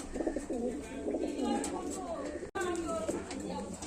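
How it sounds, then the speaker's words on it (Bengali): Pigeons cooing in a home loft where fancy breeds such as Teddy, Rampuri and Golden Kaldom are kept for sale, with steady, close, repeated throaty coos and voices murmuring in the background. "যে কটা পায়রা দেখালাম প্রত্যেকটা পায়রাই খুবই ভালো ভালো কোয়ালিটির পায়রা"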